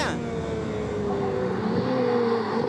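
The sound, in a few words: Ferrari 488 Pista engine on a race circuit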